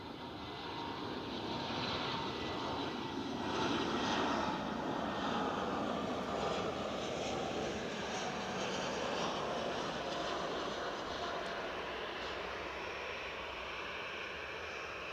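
An airliner rolls out after landing at Edinburgh Airport, its engines giving a sustained, moderately distant roar that swells around the middle and then eases off gradually.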